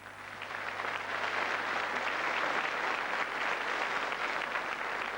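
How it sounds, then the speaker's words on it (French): A studio audience on a 1981 television show applauds a guest cook, a sustained, fairly soft wash of clapping that swells after a moment and holds steady with a faint low hum underneath. "Monsieur Yam, que je vous demande d'applaudir"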